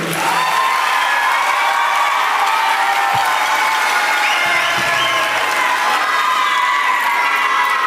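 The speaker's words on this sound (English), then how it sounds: "Just clap one time, let them know you're here." A graduation crowd at Miami Carol City Senior High claps and cheers loudly and continuously, with shouts and whoops rising over dense applause throughout.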